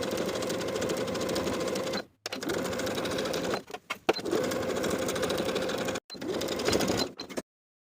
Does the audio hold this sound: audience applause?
no